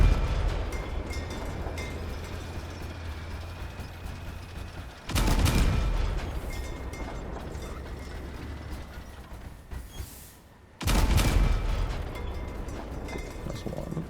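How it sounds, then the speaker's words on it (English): Tank shells fired in the vehicle combat game Crossout slam into a Goliath, two heavy booming impacts spaced several seconds apart over a steady mechanical engine drone, with no talking. "See how many shells it takes actually to take off a Goliath."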